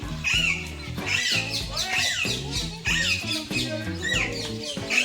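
A parrot squawks in repeated harsh, rasping bursts close by, several calls in quick succession over faint low background voices.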